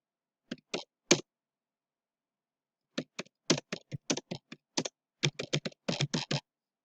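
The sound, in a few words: typing on a computer keyboard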